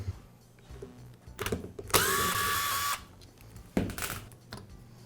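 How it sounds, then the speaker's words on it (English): Power tool whirring steadily for about a second while the front gear case comes off a Milwaukee impact wrench, framed by quieter clicks and handling of parts before and after. "I'll begin by removing the front gear case."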